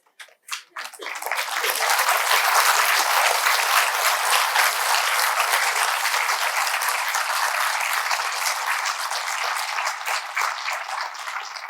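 An audience at a free Money Upasana 2026 session bursts into applause after a few scattered claps, then keeps up sustained, loud, dense clapping that slowly thins toward the end.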